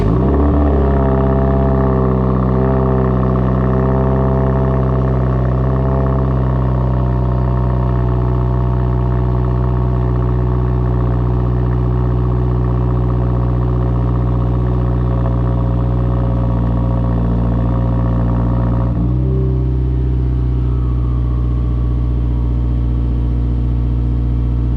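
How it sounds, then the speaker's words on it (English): A 2017 Subaru WRX with an axleback muffler exhaust cold starts and settles into a loud, steady, droning idle close by, holding a throaty hum before the pitch drops slightly near the end. "we're gonna get a cold start of a 2017 Subaru WRX"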